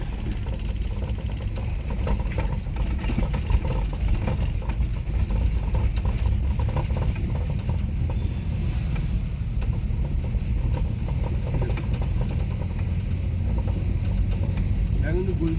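A car engine runs at a low, steady rumble as a learner driver inches along a narrow lane, with voices talking over it almost the whole time.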